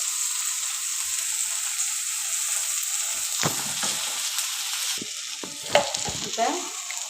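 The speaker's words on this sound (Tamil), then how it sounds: "பாருங்கள் தக்காளி நல்லா வந்து வதங்கிடுச்சு" Tomatoes and spices sizzle and fry steadily in a pan for cauliflower fry, close by, while a spoon scrapes and stirs them a few times.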